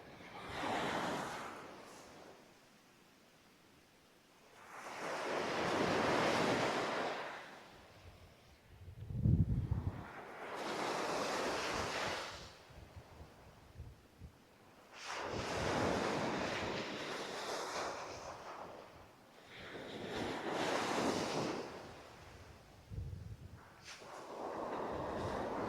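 Waves break and wash up on Rigger Beach in about five long, rolling surges, each swelling loud then easing back, with wind buffeting the microphone between them.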